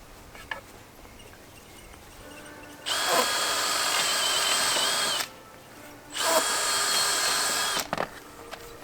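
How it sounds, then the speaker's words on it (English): A power drill whirs into dry 1x wood boards while pre-drilling, in two sustained bursts of a few seconds each, separated by a short pause, close and fairly loud. "So we're going to pre-drill"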